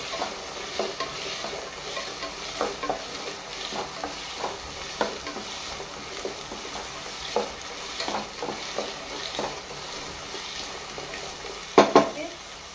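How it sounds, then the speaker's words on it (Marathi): Mixed vegetables and beans frying in oil in a pan, a constant sizzle with rhythmic spatula scrapes and stirring knocks, ending in a couple of louder clanks against the pan, close up and without speech. "सगळी आमकां भाजी बरी फ्राय करून काडपाक जाय"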